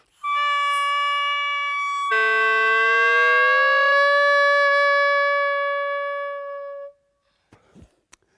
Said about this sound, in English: That's how you make a sound out of the oboe.